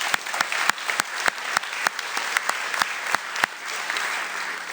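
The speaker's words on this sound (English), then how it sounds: "Let's give her a round of applause." Steady crowd applause fills the space, with many sharp claps standing out from a dense wash of hands, continuous and fairly loud throughout.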